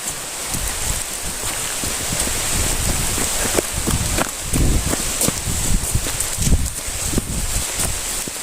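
Heavy rain pours down steadily, a dense close hiss of drops spattering on surfaces, with faint scattered thumps and no voices.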